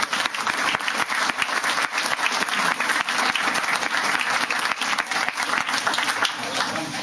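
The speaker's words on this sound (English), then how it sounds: "Another round of applause for the people" A crowd applauds at an outdoor Northampton Flag Day ceremony, steady dense clapping sustained loud and close for the whole stretch, with no voices over it.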